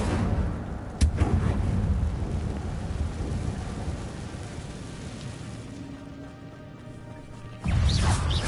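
A fire spell cast in a Harry Potter video game: a sharp blast, then a sustained roaring, crackling rumble that ends in a second heavy burst.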